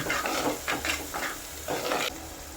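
Turmeric powder being stirred in a hot frying pan, with a soft continuous sizzle and a few rhythmic scraping strokes close by.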